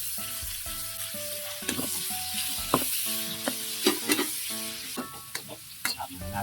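Garlic, onion and tomato sautéing in a pan for balatong, a steady close sizzle with frequent spatula scrapes and clinks on the metal and no speech.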